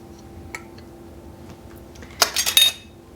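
Lids and rings set onto glass 8-ounce jelly jars of peach jalapeno jam, a few light ticks followed by a short burst of close metallic clinks and scrapes.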